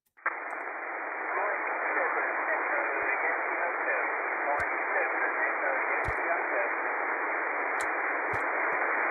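Steady hiss of amateur radio static fills the receiver at a constant loudness after an abrupt start, with a few faint clicks scattered through it.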